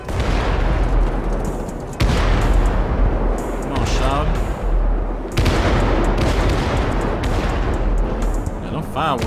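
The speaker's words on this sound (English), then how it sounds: "Yeah, them fireworks loud as hell." Loud, dense booming blasts of fireworks in GTA 5 fill the whole stretch, with sharp bursts near 2 and 5 seconds over a constant roar; a voice talks faintly underneath.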